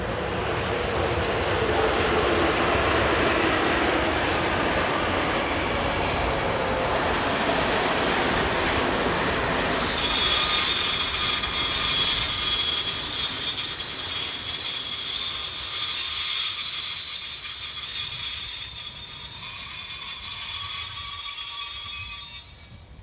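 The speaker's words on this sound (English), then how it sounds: "(163-106) is next to appear on the 1248 stopping service from Poprad-Tatry to Žilina" A Slovak class 163 electric locomotive, 85 tonnes and 4,665 horsepower, hauls a stopping passenger train from Poprad-Tatry to Žilina on the Tatra Mountain route. A steady rumble of wagons gives way to loud, sustained high wheel squeal, with no talk.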